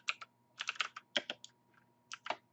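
A short burst of typing on a computer keyboard: a few clusters of sharp, close key clicks with brief pauses between, quiet room, no talk.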